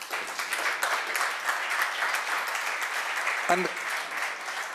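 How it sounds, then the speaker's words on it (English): Applause from an audience at a DLD Munich conference panel on culture, steady dense clapping at moderate volume, with a brief spoken word from someone partway through. "A big round of applause."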